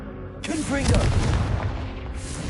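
A Confringo fire spell blasts in Hogwarts Legacy, a sudden booming burst that rolls on as a rumbling roar, with a voice speaking over the start.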